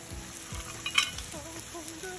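Scallion, ginger, star anise and two slices of angelica root dropped into lard simmering in a pot, giving a steady close sizzle with light stirring and a brief clink near the middle.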